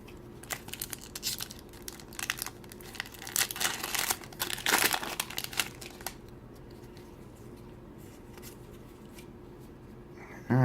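Magic: The Gathering card pack wrappers being torn open and crumpled, a close burst of crinkly, papery tearing for several seconds that fades into quiet handling noise.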